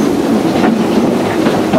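A loud, continuous rumble of a Frisco Silver Dollar Line train rolling past, with steady rushing noise and faint rhythmic clatter from the wheels.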